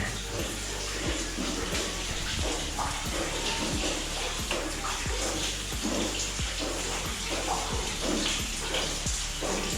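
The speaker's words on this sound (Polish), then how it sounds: "Kapie z sufitu w ogóle." Water drips steadily from the ceiling of a dark cave on Tenerife, a regular patter of small drops over a constant rushing background hiss.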